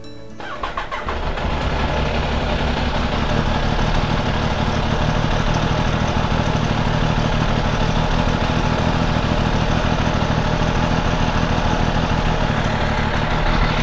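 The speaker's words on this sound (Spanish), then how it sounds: "vamos a hacer la prueba de encendido de la moto y vamos a ver qué voltaje baja al encenderla" A motorcycle engine cranks and fires, then settles into a loud, close, continuous idle with a dense, even beat for over ten seconds, with no talk.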